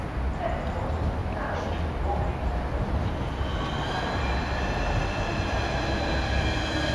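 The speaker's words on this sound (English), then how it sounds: "That's my train." A train pulls into a station platform on the Orpington line, a steady low rumble of wheels and carriages with a faint high whine, heard at moderate distance amid platform ambience.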